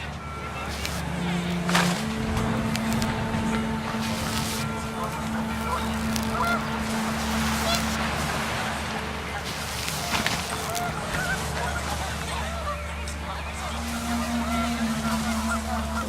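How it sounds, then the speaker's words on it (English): Panicked geese honk repeatedly in a game scene from What Remains of Edith Finch, close calls over wind and steady background ambience, with a voice speaking intermittently. "The wind picked up and panicked geese appeared and quickly went."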